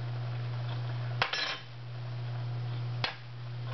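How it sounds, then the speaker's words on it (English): A lid comes off a jelly jar in two short metallic clicks and clinks, close up against a low steady hum. "you will remove the lid from the jelly jar"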